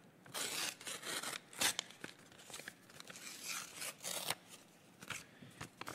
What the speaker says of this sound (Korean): 제가 이거 종이 한번 찢어 볼게요.